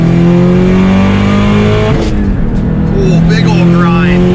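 A 500HP Subaru STI with a rotated turbo revs hard, then the engine note drops during a shift into fourth, where a brief rough grind from worn synchros breaks through before the engine pulls again. A voice talks over the engine.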